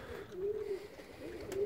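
Pigeons coo at a loft as a female is released: low, soft, rolling coos in two short phrases, fairly close, with no voices.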